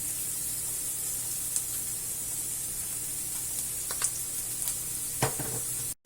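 Paneer sizzling and frying steadily in a pan with a little salt for dhaba-style paneer butter masala, a continuous close hiss broken by a few brief spatters and stirring clinks near the end, with no talking.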